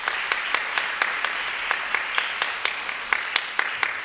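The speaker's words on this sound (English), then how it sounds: "so let's just give them a round of applause." A concert audience gives a round of applause for the patrons, with moderately dense clapping and a few distinct louder claps standing out at an irregular rhythm.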